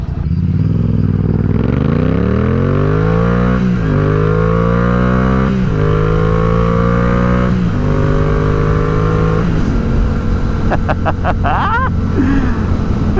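A small motorcycle engine is close and loud, revving up through several gear shifts with rising pitch, then dropping back with a few sharp clattering pops near the end.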